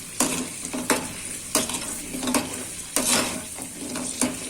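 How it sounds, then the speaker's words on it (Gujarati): Steady sizzling of harad (chebulic myrobalan) frying in hot oil, with periodic scraping and stirring strokes against the pan at close range; no voices. "આ રીતના આપણે બધી તળી લેશું"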